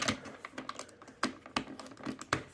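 Plastic Transformers Rat Bat figure being transformed by hand, its parts giving a quick run of close, sharp clicks and snaps at an uneven pace.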